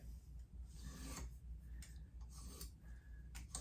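A Simmons knife edge is drawn along the fine side of a jewel sharpening stick in light strokes, several soft rasping scrapes in an even rhythm, close and faint, with no talking.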